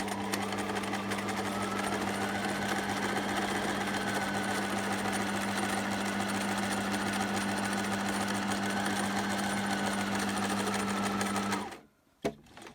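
Sewing machine running steadily while stitching fabric for a simple two-zip pouch, a loud continuous mechanical whir with a fixed hum, going for about eleven seconds before stopping abruptly.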